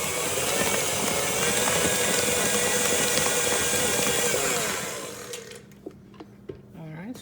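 Electric mixer whirring steadily as it beats buttercream for a dulce de leche caramel cake, a dense continuous motor drone that cuts out after about five seconds, leaving light kitchen clatter.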